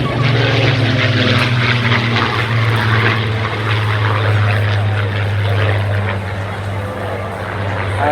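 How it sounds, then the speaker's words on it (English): A Spitfire PR.XIX powered by a Griffon engine passes overhead, its propeller engine a loud, steady low growl that holds strong for the whole stretch without fading. "you notice a slightly different growl from that particular engine because this is a Griffon engine, Spitfire."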